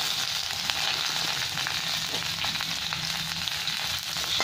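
Onions and okra fry in hot oil with a continuous close sizzle and crackle, steady throughout and free of voices.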